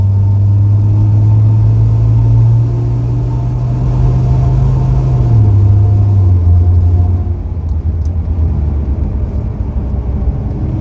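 Pickup truck with a Dana 60 axle and newly replaced wheel bearings and ball joints, driving on the road. A steady engine drone and road rumble build toward highway speed, with the engine pitch stepping down through gear shifts; no talking.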